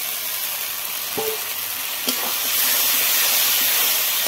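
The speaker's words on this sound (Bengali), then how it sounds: "আমি ভাজা আলুটা দিয়ে দিচ্ছি এর মধ্যে" Fried potatoes dropped into a pan of sizzling spice masala: a continuous frying hiss with a couple of brief knocks as they go in, the sizzle swelling louder near the end.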